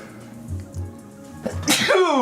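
A single sharp sneeze from a person, preceded by a few quiet breaths and short sniffs, close to the microphone in a quiet indoor room.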